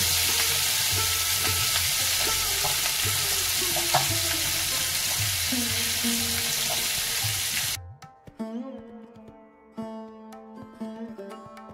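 Pieces of hilsa fish lightly frying in hot oil, a dense steady sizzle that stops abruptly partway through, followed by music.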